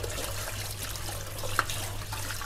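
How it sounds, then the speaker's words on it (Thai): Tapioca pearls are rinsed under a running tap in a sink, a steady close rush of water with one small splash partway through. "ล้างให้ตัวเมือกดำๆที่เกาะไข่มุกเราอยู่นะครับพวกคราบแป้งนะให้เขาหลุดออก"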